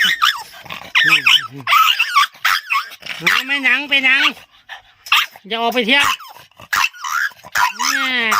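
A Japanese Spitz barks and whines in close, excited bursts while a person talks over it.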